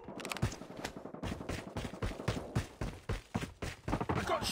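Rapid bursts of gunfire in an M4-armed video game match, sharp repeated cracks and thuds in quick clusters across the stretch, fairly close and steady with no other sounds standing out.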